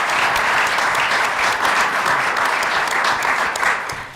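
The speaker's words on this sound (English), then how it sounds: "Let's give him a round of applause, Congressman Paul Tonko." Audience at a government announcement event applauding steadily, a dense, sustained round of clapping that fills the whole stretch and tapers slightly at the end, no voices over it.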